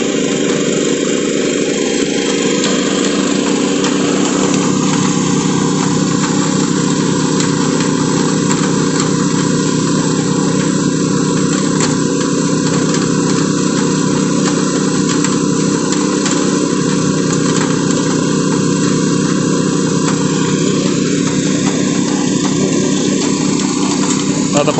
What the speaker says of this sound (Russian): гидростанция стоит, сверлит гидравликой, получается